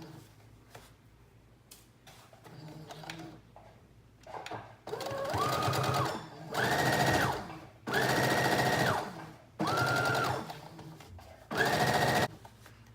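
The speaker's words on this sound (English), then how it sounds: "First thing it says for us to do is to sew the center front." A sewing machine stitches the center front seam of a high-waisted denim skirt at a standard stitch length, running in four or five steady bursts separated by short pauses, close and clear.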